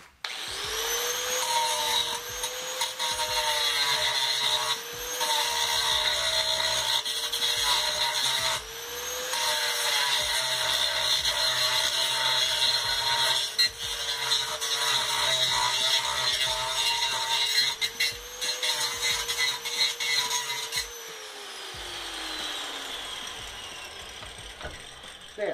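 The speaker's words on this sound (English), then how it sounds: "fire up this little angle grinder and remove the pop rivet" A small angle grinder whines loudly and steadily while cutting out a pop rivet, its pitch wavering a little as it bites. It keeps going with short dips and then spins down near the end.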